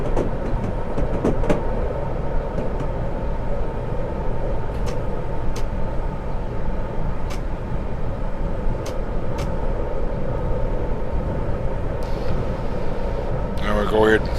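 A locomotive in Train Simulator 2015 rumbles steadily throughout, with a constant low drone and faint periodic clicks, while someone talks over it.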